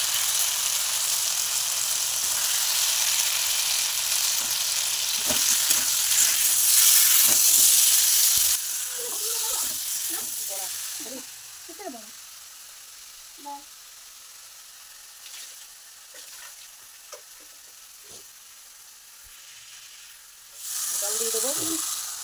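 Cut potato pieces hit a pan of hot spiced oil and sizzle loudly at first, then settle into a quieter fry with scattered stirring clicks and a fresh burst of sizzling at the end.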